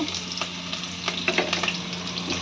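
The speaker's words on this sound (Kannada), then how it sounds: "ಎಣ್ಣೆ ಕಾದ್ಮೇಲೆ ಮಿಕ್ಕಿದ ಈರುಳ್ಳಿನೂ ಒಂದೆರಡೇ ಎರಡು ಹಸಿಮೆಣಸಿನ್ಕಾಯಿ ಹಾಕ್ಕೊಂಬಿಡಿ" Onions and a couple of green chillies fry in hot oil for an egg curry, a steady close sizzle with occasional crackles and stirring sounds throughout.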